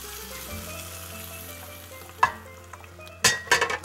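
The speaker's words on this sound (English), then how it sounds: "Now, I'm going to add this." An ingredient gets stirred into dhal curry frying in a pan, giving a steady sizzle throughout with a couple of sharp scraping and clattering stirs near the end.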